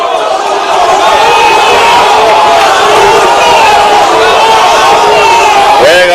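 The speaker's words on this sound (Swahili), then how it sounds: "Pigieni Mheshimiwa Waziri Eugene Wamalwa makofi" A large crowd cheers, whistles and shouts in a dense, continuous roar at a Jubilee political meeting, loud and steady throughout with overlapping voices.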